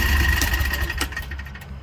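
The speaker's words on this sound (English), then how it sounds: "Then you go back to idling and it idles rough as hell because it's on 1 cylinder." Predator 670 engine idling roughly while running on one cylinder, a loud uneven chugging idle that continues throughout the short stretch with no voices.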